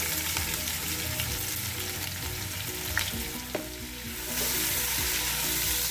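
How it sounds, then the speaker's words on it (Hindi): Loud, steady sizzling of a medium onion frying in hot oil for mutton yakhni pulao, with a couple of stirring clatters and the sizzle swelling briefly near the end. "अब इसमें हम प्याज ऐड करेंगे।"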